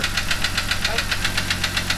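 A Jeep 4.0L straight-six engine running with no oil pan makes a rapid, regular metallic knocking, about six beats per second, loud and close over a steady idle hum.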